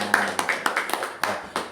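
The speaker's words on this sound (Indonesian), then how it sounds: "Tepuk tangan dulu dong untuk kalian semua." A group claps hands at a school event, sharp uneven bursts of several hands striking in quick succession, close and lively for under two seconds.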